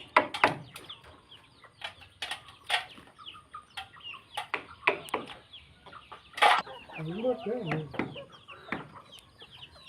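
Chickens cluck and chatter close by while eating rice, with scattered pecking taps and a brief wing flutter, while a person talks softly in places.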